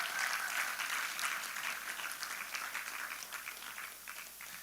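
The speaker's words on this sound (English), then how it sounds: "Now, I want you to specially put your hands together for my head of operations, Mr. Michael Audu." Audience applause at a live traders bootcamp evening session, a dense sustained clapping from a large crowd that starts full and gradually thins over several seconds.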